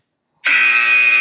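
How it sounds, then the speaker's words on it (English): A workout interval timer buzzer sounds during a home leg and bum exercise session, starting abruptly after silence as a loud, steady, harsh electronic tone that holds to the end. "There we go, there's the buzzer."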